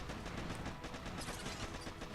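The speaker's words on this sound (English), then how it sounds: "That machine gun's doing some damage" Rapid machine gun bursts pound an NPC base in a video game, dense and continuous, with a steady rattling barrage of gunfire that stays loud throughout.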